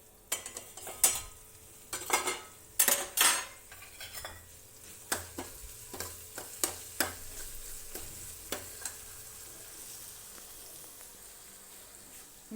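Masala spices cooking in a pan in a home village kitchen, with bursts of stirring, scraping and sizzling, loudest early on and then softer, intermittent clinks and scrapes, close by with no talking.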